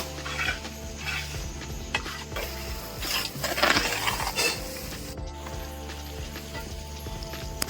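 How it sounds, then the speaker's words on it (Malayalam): Split green chillies and tomato being stirred in a cooking pan for egg curry, with continuous close scraping and clinking of a utensil against the pan over a soft sizzle, no talking. "ഇതിന്റെ കൂടെ തന്നെ പച്ചമുളക് പിളർന്നത് അതുകൂടെ ഇട്ടു എല്ലാം കൂടെ ഒന്ന് ഇളക്കി കൊടുക്കാം"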